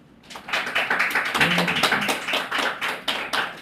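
A church congregation claps during a Sunday sermon, a dense burst of close, energetic applause that swells and continues for a few seconds.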